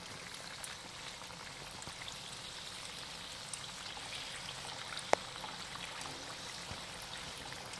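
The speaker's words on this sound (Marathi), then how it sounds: "आपण हे थोडेसे मोठ्या गॅसवर आपण हे भजी तळून घेणार आहे" Chili bhaji frying in hot oil in a pan over a raised gas flame, a steady even sizzle and fine crackle throughout with one sharp pop partway through.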